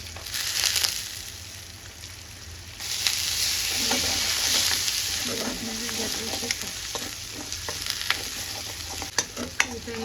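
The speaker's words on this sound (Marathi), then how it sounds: "हे सगळं परतून झालं छान" Pavta beans and spices sautéing in a pan, a continuous sizzle with repeated scraping and stirring strokes and occasional clinks of the spoon, fairly close.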